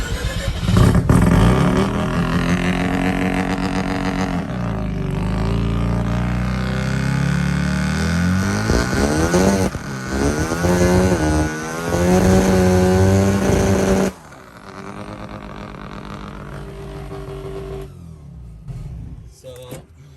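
A car held at low RPM for a burnout, likely with a damaged transmission, roars loudly and continuously with wavering pitch before dropping to a quieter, steadier drone near the end.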